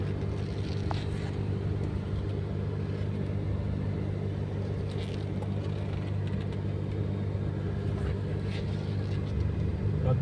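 A car drives steadily along a newly built road to the Anantha Padmanabha Swami temple near Reddy palli, with a continuous low engine and tyre rumble heard from inside, even and unbroken throughout.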